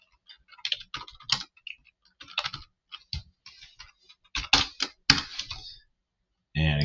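Typing on a computer keyboard, close and clear: irregular bursts of quick key clicks separated by brief pauses, with no talking over the keystrokes.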